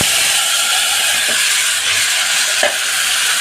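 Bay leaf and mutton dropped into hot oil give a loud, steady, dense sizzle close up, with a couple of faint scraping stirs cutting through the continuous frying hiss.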